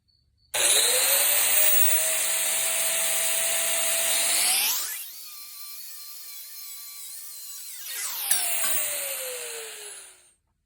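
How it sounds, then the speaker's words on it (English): A high-pitched drill whines steadily, its pitch dropping as it bites into metal gate pins, then rising again before cutting off. "I'll drill a hole through them so that I can pin them"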